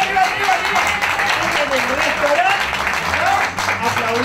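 A TV studio audience applauding on a comedy show, dense continuous clapping with voices calling out over it.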